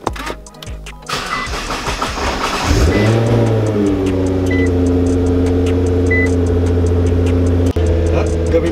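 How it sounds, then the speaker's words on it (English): A supercar engine at a supercar ride-and-drive event starts with a burst and settles into a loud, steady high idle with strong low rumble, revved briefly to warm it up, close and continuous. "let's put some heat in the engine first"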